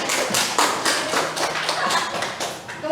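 Students in a classroom applaud with a dense, steady patter of many overlapping hand claps that continues at an even level throughout.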